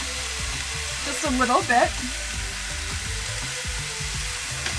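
Zucchini noodles frying in a pan, a steady close sizzle with faint stirring clatter; a person speaks briefly over it.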